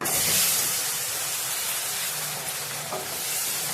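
Boiling water is poured into roasted semolina for pineapple sheera and bursts into a loud steaming sizzle. It is strongest at the start, then settles into a steady hiss as the mixture is stirred. No one speaks.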